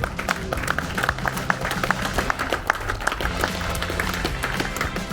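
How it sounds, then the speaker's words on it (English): Crowd applause at an outdoor charity motorcycle ride gathering, a steady wash of many hands clapping close by with scattered sharper claps, sustained evenly for several seconds. "So you all deserve a good round of applause for that"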